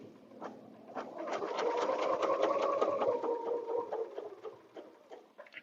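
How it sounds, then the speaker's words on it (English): A quilting sewing machine stitches along the border of a butterfly bed runner, a steady mechanical whir with fast needle clatter that runs for about five seconds before tapering off, close and fairly quiet. "I'm going to stitch up to the top"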